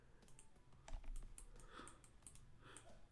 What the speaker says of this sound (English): pressing shift I on the keyboard